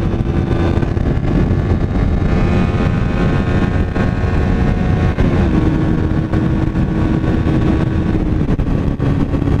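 A Suzuki GSX-S 125 motorcycle engine pulls hard under acceleration after the clutch is released, a loud steady drone with rising pitch mixed with heavy wind rush.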